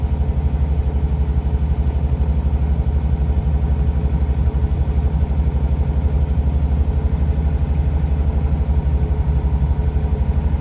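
A 1958 Jaguar XK 150 engine idling after a cold start, steady and rumbling with a deep, throaty low end and a faint mechanical clatter, running continuously and close by.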